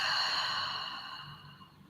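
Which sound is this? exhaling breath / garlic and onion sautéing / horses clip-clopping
exhaling breath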